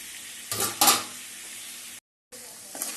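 Onions, green chillies and tomatoes sauté in a pan, giving a soft, close sizzle with a few scraping stirs, then a brief silence before a faint stir returns.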